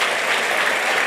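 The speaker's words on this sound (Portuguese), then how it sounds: "Vamos aplaudir o Senhor." Church congregation applauding during a sermon, a brief, dense and loud burst of many hands clapping together in a steady, unbroken wash.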